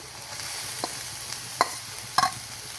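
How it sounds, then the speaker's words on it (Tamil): Cutlet filling of ginger, garlic and chopped leaves being stirred in hot oil, a steady soft sizzle with a few sharp scraping clicks of the spoon against the pan, close and alone. "நல்லா கிளறி விட்டுக்குவோம் அப்போ தான் எல்லாம் நல்லா வேகும்"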